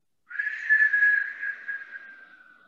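Slow exhalation through pursed lips as a breathing exercise, a soft airy whistle-like hiss that rises, holds and fades over about two seconds, close and quiet, with no talking.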